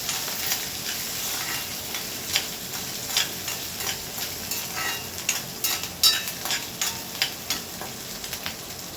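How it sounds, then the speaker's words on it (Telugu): Green chilli pieces frying in a pan for a tiffin-centre onion curry crackle and sizzle continuously, punctuated by irregular sharp stirring clicks and pops that grow busier toward the end. "ఇందులో మిర్చి కట్ చేశాను కదా, ఈ ముక్కలన్నీ ఫస్ట్ యాడ్ చేస్తాను అనమాట"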